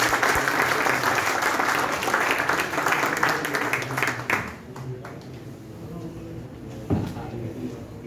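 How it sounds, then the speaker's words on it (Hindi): Loud sustained applause and clapping from a mushaira audience, which fades midway and leaves a few scattered claps and room noise. "जोरदार तालियां।"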